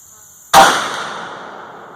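A single 450 Bushmaster rifle shot fired with a Hodgdon H110 load behind a Hornady 225 grain FTX bullet, one sharp loud crack outdoors followed by a long decaying echo.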